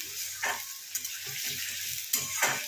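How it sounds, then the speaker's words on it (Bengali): Potatoes fry in a pan with a soft, steady sizzle, broken by repeated scraping and stirring strokes of a utensil close up, with no talking. "আলুটা ভালো করে ভেজে নিয়ে ফিরছি।"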